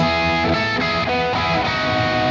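Dense, sustained distorted electric guitar chords ring out loud and continuous, shifting through a short sequence with no pauses between changes.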